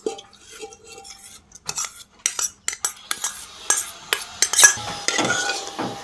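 A metal spoon scrapes and clinks as packaged sour yogurt is scooped from a bowl into a clay pot for lassi, in a run of short, sharp taps that get busier toward the end.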